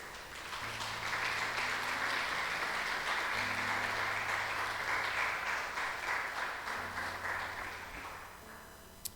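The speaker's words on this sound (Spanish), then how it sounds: "Dale un aplauso fuerte" Loud, dense applause from a large church congregation continues steadily for several seconds, with a low hum of music or voices underneath.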